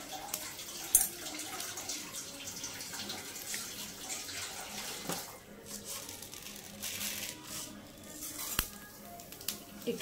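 Half a spoon of ghee heating in a pan gives a soft, uneven sizzle and crackle, fairly faint and close, with a few sharper pops scattered through.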